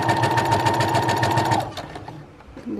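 A Brother sewing machine runs a back stitch in reverse, a steady close, loud mechanical whir for about a second and a half before cutting out, leaving a few soft clicks and handling noises.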